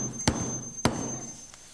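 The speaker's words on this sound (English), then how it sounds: "So you get a block of wood. See that, Captain Cole? You get a hammer and a leaf." A hammer strikes a leaf laid on a block of wood, giving two soft, close thuds a little over half a second apart, then fading into quiet room tone.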